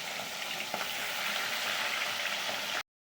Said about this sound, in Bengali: মাথা আর লেজা ভাজা হচ্ছে